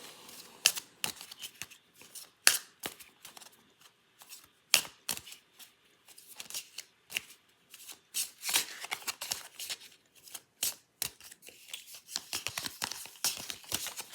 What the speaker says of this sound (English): I've already pre-shuffled those, but we'll do another shuffle.